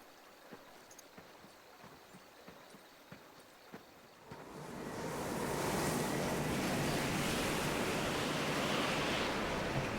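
Wind in the video game Final Fantasy XVI starts as a quiet background hush, then swells into a loud, steady, broad gusting roar that holds for the rest of the stretch with no talking.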